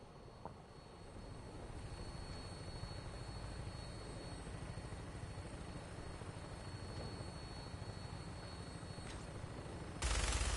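A steady, droning engine hum of an aircraft in flight in Fallout 4, continuous and even for about ten seconds, with a sudden louder surge right at the end.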